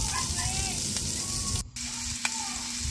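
Garlic, ginger and onion sizzle steadily in a hot pan, a dense crackling hiss that cuts out briefly and then resumes, with faint talk.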